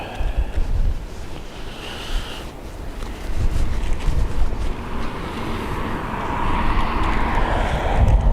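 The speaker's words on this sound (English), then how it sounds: "Aer Lingus off to London Gatwick." An Aer Lingus airliner departs Dublin Airport for London Gatwick, a broad roar mixed with wind buffeting the microphone that builds louder toward the end, heard from outdoors at a distance.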